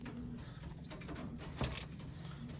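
Pigeons flap their wings in short bursts close by, with soft rustling and a faint coo underneath in a quiet loft setting.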